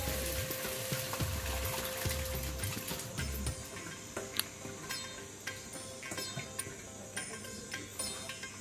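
Boiled mixed dal hits spices frying in hot oil, a continuous close sizzle with scraping and stirring clatter in the first seconds, then settling into a softer, crackling simmer with occasional ticks; no one speaks.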